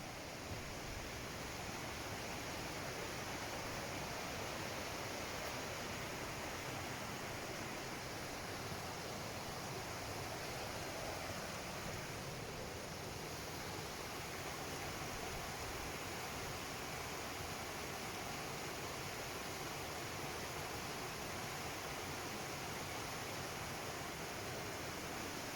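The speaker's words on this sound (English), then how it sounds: "There's the waterfall." A waterfall in a Peak District woodland pours in a steady, dense roar that stays even and close throughout, with no voices over it.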